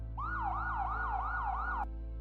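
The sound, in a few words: sirens in the distance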